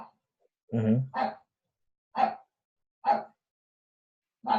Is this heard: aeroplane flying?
no